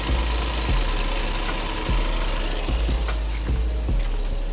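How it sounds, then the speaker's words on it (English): Suzuki DA64W van engine idling with the hood open, a loud close steady mechanical drone with a low rhythmic thump recurring roughly every second. "So, ito yung engine ng unit guys."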